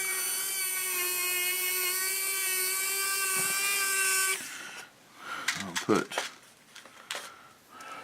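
A power drill whines steadily for about four seconds as it drives a screw into a model build, then stops, followed by a few knocks and handling sounds.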